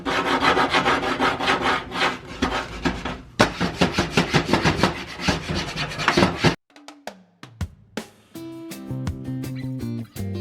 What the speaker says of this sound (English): It's just a nice hard scraper.